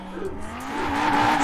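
An Audi RS2 with a 2.2-litre inline five-cylinder engine revs and squeals its tires while drifting in Forza Horizon 4, the engine note rising steadily as the slide builds, loud and close in a brief burst.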